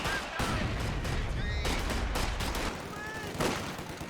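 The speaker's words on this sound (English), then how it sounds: "Machine guns at the moment, kind of boxing out the allies." Machine gun fire in a Company of Heroes 2 battle, sharp bursts of rapid shots crackling repeatedly among other combat noise, fairly loud and dense across the whole stretch.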